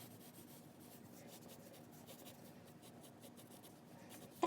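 A pencil scratches across paper while sketching a poppet pattern, drawing a round head and then the body, giving a faint, continuous rubbing scrawl with small strokes close by.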